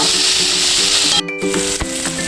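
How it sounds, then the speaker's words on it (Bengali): Kochur loti (taro stolons) frying in a pan with salt and turmeric powder, giving a loud, steady sizzle with a brief break and light stirring scrapes. "আর একটু হালকা করে আমি ভেজে নেব"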